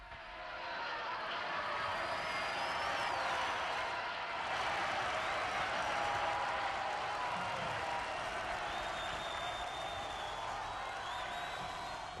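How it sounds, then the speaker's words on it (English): Faint, distant applause and crowd noise from a vast arena at the close of a concert, a steady wash of clapping and cheering sustained for several seconds. "As the applause rings in his ears"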